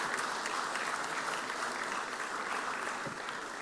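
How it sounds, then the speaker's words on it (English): Lawmakers and guests in the Mississippi Senate chamber give a steady round of applause during a floor session, an even wash of many hands clapping throughout at moderate volume. "Please give them a round of applause."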